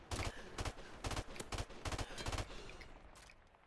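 Gunfire in a first-person shooter video game rattles out in loud, rapid bursts of shots, several tight volleys close together, then tails off near the end, with no talk.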